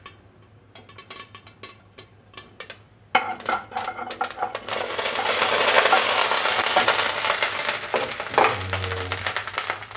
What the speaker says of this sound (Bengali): সর্ষেটা একটু ফুটে তার জন্য ঢেকে দিচ্ছি।